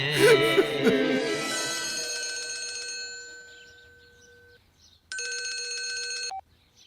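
An old-fashioned telephone bell rings in one sustained metallic burst that lasts about a second, heard after a fading musical chord and followed by quiet.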